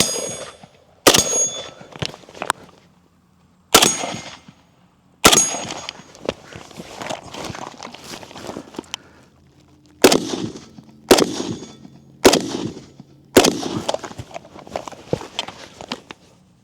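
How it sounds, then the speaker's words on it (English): An FN SCAR 17S battle rifle fires single shots outdoors, about ten sharp, loud reports spaced irregularly, each followed by a ringing decay, with faint clinks between them. "enjoy some of this shooting footage"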